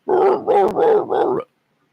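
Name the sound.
dog barking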